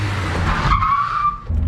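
A Renault Twingo phase 1 brakes hard and its tires skid with a loud, close squeal that rises over the engine noise, holds briefly, then cuts off as the car stops.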